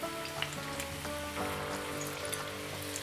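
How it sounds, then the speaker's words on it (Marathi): Paneer nuggets deep-frying in hot oil, a soft continuous sizzle with light crackling pops, fairly quiet and steady without any talking. "ह्या नगेट्सना सोनेरी रंग येईपर्यंत आपल्याला तळून घ्यायचे आहेत."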